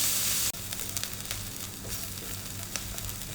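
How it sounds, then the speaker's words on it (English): Onion and green chilies sauté in a hot pan, a steady close sizzle with soft crackling, after a brief burst of noise at the start. "The onion is now sauteed quite well."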